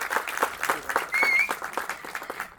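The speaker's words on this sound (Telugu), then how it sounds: "ఈ ఆడిటోరియం అంతా కూడా చప్పట్లతో దద్దరిల్తే చూడాలని ఉంది" Applause fills an auditorium at a press meet for a national award, brisk clapping with individual claps audible, a whistle cutting through briefly, and the sound thinning out toward the end.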